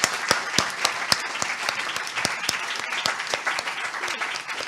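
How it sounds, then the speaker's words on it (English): Sustained audience applause at an international mediation competition, a dense steady wash of clapping with a few sharp nearby claps standing out, continuing for the whole stretch. "So please give them a round of applause,"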